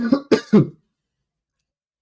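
A short burst of three rough coughs close by during a podcast, followed by silence.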